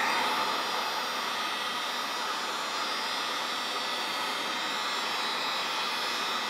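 A heat gun blows a steady, loud, unbroken whoosh of hot air while melting crayons, running alone without any pauses.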